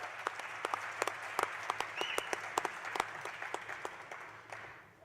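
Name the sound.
audience applause in a theatre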